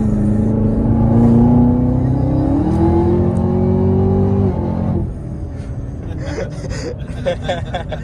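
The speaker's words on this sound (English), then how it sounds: "let's listen to the engine" A powerful 2020 Chevrolet Camaro ZL1 engine idling loud and close, its pitch rising and settling as it revs, then dropping to a rougher, burbling idle.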